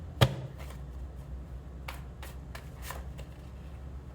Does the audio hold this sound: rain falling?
no